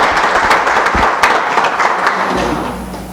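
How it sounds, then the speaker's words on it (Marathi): An audience at a prize ceremony for a debate and elocution competition claps loudly, a dense and lively burst of many hands that slowly thins and fades toward the end. "जोरदार टाळ्या झाल्या पाहिजेत"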